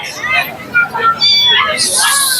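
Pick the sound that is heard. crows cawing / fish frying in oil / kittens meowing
kittens meowing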